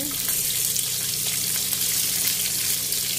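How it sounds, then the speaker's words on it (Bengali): Chopped onions frying in hot oil for red chicken pasta, a steady broadband sizzle that stays loud and even throughout with no talking. "তেলটা দিয়ে দিছি একটু গরম হওয়ার জন্য এখন আমি এক এক করে পেঁয়াজ কুচি পেঁয়াজ কুচি দিয়ে দিচ্ছি"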